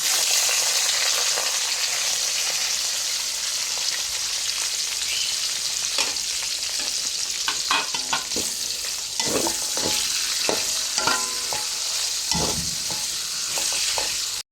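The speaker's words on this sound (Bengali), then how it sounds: "পেঁয়াজটা লাল লাল করে ভেজটা ভাজতে হবে।" Onions frying in a pan until reddish for a chicken roast, a steady close sizzle with scraping stir strokes growing more frequent toward the end.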